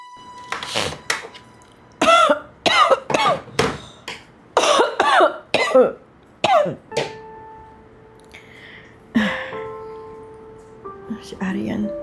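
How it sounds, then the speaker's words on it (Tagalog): Several harsh coughs and throat clearings come in bursts, followed by quieter tonal sounds and faint background noise. "Parang inuubo ka."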